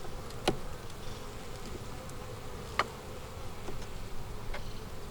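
A steady, low buzz of many honeybees at an open hive during an inspection hums close by, with a few sharp clicks and taps now and then.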